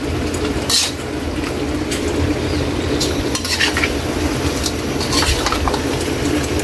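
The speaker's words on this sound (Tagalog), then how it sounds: "At dito naman kaili ay imikos lang natin." Shrimp being stirred with butter and saang in a large pan, a steady wet sizzle with scraping and clinks of a utensil against the metal. Sharp clatters come through at intervals, and no one speaks.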